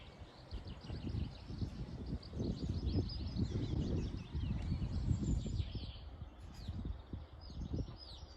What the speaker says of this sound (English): all you can hear are the sound of birds singing wherever you are on this site